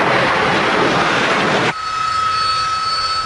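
Harrier jump jet engine roaring loud and broadband, then cutting abruptly to a high steady whine with tonal lines, no voices.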